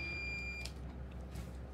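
Short high electronic beep from a PC during a live build, brief and faint, over a steady low background hum.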